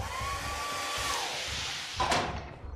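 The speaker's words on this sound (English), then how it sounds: "It's my hair dryer, duh." A hair dryer blowing with a constant whine and airy roar in the video game Lethal Company, ending in a brief clatter near the close.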